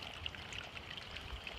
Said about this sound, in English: water draining